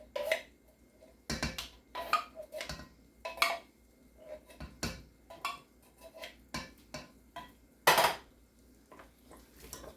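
A spoon scrapes and clinks against a pot while cream soup and drained canned tuna are stirred together for a one-pot tuna noodle casserole, making irregular close taps and knocks over a quiet background.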